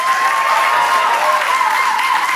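An audience at a hackathon closing ceremony applauds in a dense, steady wave of clapping that fills a large hall, loud and continuous throughout.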